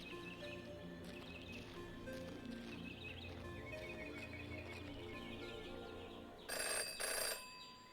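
A telephone ringing in the video game Jenny LeClue, a faint, quiet scene with a short burst of bright ringing near the end.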